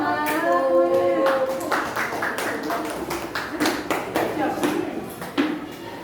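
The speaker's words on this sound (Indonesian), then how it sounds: "Kasih tepuk tangan." Classroom clapping from students at the end of a lesson, a scattered burst of hand claps with some voices mixed in, fairly close and steady for several seconds.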